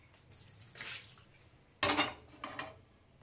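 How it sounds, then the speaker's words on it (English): Hot water being tipped out of a cast iron tawa, with short splashing pours and a larger gush near the end, plus faint metallic clinks, close and fairly quiet. "So now I'll throw this water."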